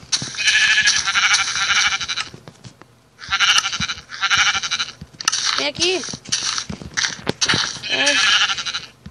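Sheep bleat repeatedly in a video game, loud wavering cries in several bursts with short gaps between, while someone talks over them.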